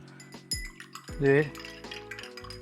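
A spoon stirs an iced tea mixture in a glass, making a few light clinks and scrapes against the glass, with a voice speaking briefly between them.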